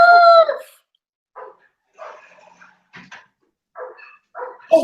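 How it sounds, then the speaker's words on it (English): Dogs outside bark in short separate bursts at a moderate distance, coming at irregular gaps, after a loud tonal call at the start. "I need to close this window because these dogs are going crazy."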